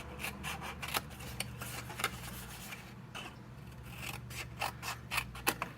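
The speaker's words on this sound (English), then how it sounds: "Take out these 2 rectangles, folding up or cutting up on our score lines." Scissors snip through paper rectangles along score lines for a Stampin' Up! fold-flat box, a close, quiet series of crisp repeated cuts with short pauses between them.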